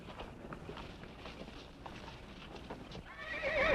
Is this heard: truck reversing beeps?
no